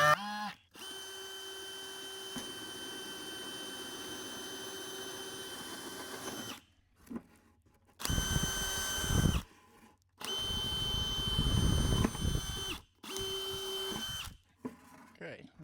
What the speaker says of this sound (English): we got our hole drilled there